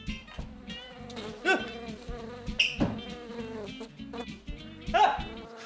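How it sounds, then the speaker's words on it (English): A big bumblebee buzzes in rising and falling drones, close and fairly loud, with other voice-like tonal sounds mixed in. "There's a bee."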